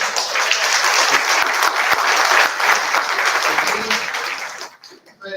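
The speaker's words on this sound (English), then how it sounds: "Big clap for yourself." An audience bursts into sustained applause, dense clapping filling the room for several seconds before tapering off near the end.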